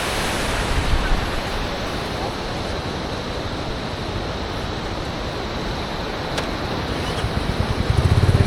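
The Teesta river rushes through a mountain valley, a broad, continuous roar of churning water heard steadily throughout, loud and unbroken.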